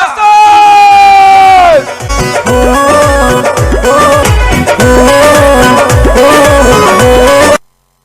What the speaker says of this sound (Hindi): इसी जोरदार तालियों के साथ में स्वागत करते हैं ग्रेट मेंटर्स, ग्रेट लीडर्स, श्रीमान सत्येंद्र प्रसाद जी का।